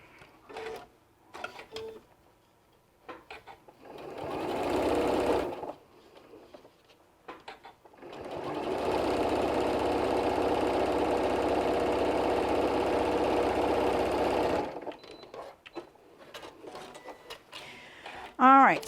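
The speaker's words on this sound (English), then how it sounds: "We've done one, we're going to do the next, and then we'll sew these two together." A sewing machine stitches an eye mask pillow, two runs: a short burst near five seconds, then a longer steady whirring run of about six seconds, with close talking in the pauses between.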